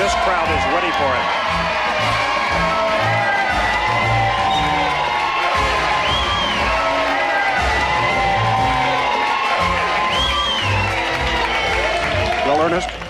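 A lively crowd at Disneyland's Splash Mountain cheers and whoops continuously under an excited announcer's voice, a dense, steady roar of many people.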